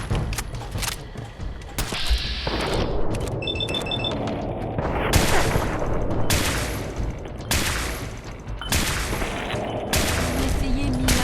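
Gunfire and booming impacts in the post-apocalyptic game Fallout 4's Nuka World, loud close shots and thuds in irregular bursts over a busy combat mix.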